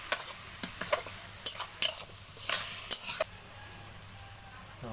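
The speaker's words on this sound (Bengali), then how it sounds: "তো এখন একটু জল দিয়ে দিলাম হালকা, ভাজিটা একটু নরম নরম থাকবে।" Ash gourd bhaji sizzles gently in a pan after a little water is added, a low steady simmer punctuated by a series of sharp scrapes and taps from a spatula stirring against the pan.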